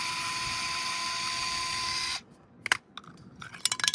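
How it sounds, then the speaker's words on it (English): A 7-way trailer plug housing being unscrewed: a steady, close whirring drone lasts about two seconds, then cuts off into scattered clicks and small plastic rattles. "we're going to go ahead and unscrew this."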